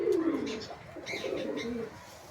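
Domestic pigeons, local desi birds, give soft throaty coos in a short murmuring run, close by and fairly quiet.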